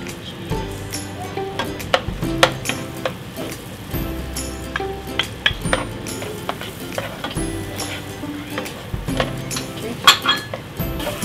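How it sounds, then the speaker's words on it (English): Minced ingredients and green chili stirred in a cooking pan, with a steady sizzle under repeated clinks and scrapes of a utensil against the pan, close and lively throughout. "We stir this about 1-2 minutes."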